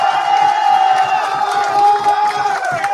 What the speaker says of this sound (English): Now y'all can clap.